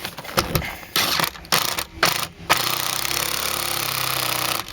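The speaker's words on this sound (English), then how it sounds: "now you get your impact gun" An impact gun runs on a 1994–2004 Ford Mustang, torquing down the bolts of a seat adaptor, with several short bursts followed by a longer, loud sustained rattling run close by.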